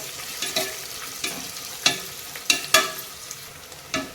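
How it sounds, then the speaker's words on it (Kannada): Onions fry in oil for a vegetable biryani, a soft steady sizzle broken by several sharp spoon clinks and stirring scrapes against the pan. "ಇದು ಚೆನ್ನಾಗಿ ಎಣ್ಣೆಯಲ್ಲಿ ಫ್ರೈ ಆಗಬೇಕು ನಮಗೆ."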